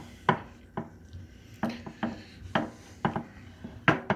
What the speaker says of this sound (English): So we're just going to go up under this, try not to get all our good meat off there if we can.